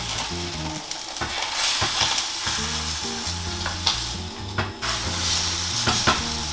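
A stuffed roast sears in oil in a frying pan, with a dense, loud, continuous sizzle and occasional pops and shifts as it is moved. A low tonal hum runs underneath.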